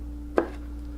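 A single sharp knife chop lands on a cutting board, cutting through food turned flesh side up, one crisp close thud against a steady background hum.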